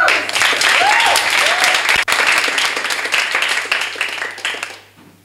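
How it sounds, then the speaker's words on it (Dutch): An audience at a poetry slam in a Rotterdam library hall claps loudly for about four seconds, a dense patter with a few cheers that thins out and fades near the end. "En mag ik alsjeblieft een applaus vanuit je hart."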